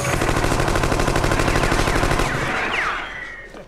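A loud, rapid burst of automatic gunfire from a robotic scorpion's sting in a comedy sketch. It rattles continuously for about two and a half seconds, then drops away into fading whooshing sweeps.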